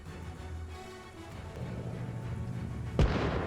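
Bombs explode in a WW2 German-versus-Soviet battle game: a low distant rumble builds steadily, then one sharp, loud blast hits near the end and trails into a heavy roar.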